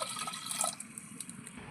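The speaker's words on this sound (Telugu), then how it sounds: "వాటర్ పోసుకోవాలండి కాస్త." Water pours into a cooking pot for a gongura and dried prawn curry holding green chillies, tomato, salt and chilli powder, a soft continuous splashing trickle, close and fairly quiet, with no talk.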